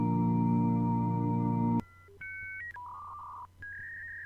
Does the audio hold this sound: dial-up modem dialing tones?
yes